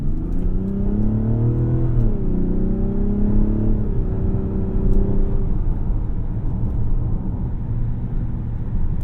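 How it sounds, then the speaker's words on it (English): A 2025 Mazda CX-90 Turbo S Premium Plus SUV at full throttle, with a steady engine drone climbing in pitch, dipping briefly at a shift, then holding a loud, continuous rumble heard from inside the cabin. "Boost it just a little bit since this is turbo, and floor it."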